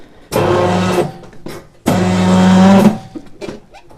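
A Redats M-201F tyre changer machine turns a tyre in two long, loud motorized bursts with a steady low hum, separated by a short pause, with no talk.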